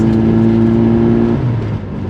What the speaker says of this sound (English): Listen to it rev up these hills.